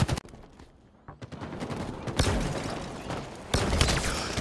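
Video game gunfire crackles in a few quick bursts and single shots, fairly quiet and close, with no talking.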